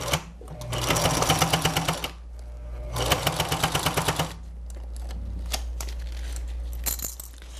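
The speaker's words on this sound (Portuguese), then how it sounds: "Já consegui apoiar ali, eu comecei a costura, agora vai facinho" A sewing machine stitches a patchwork makeup pouch in two loud runs of rapid rhythmic needle strokes over a steady motor hum, followed by lighter intermittent handling and softer stitching.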